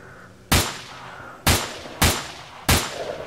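Enemy gunfire in the S.T.A.L.K.E.R. Misery game: four loud, sharp shots crack out at uneven intervals, each followed by a short decaying tail, with no talking.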